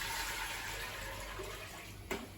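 Two liters of water running steadily into a pot for baklava syrup, a continuous close pour that stops near the end.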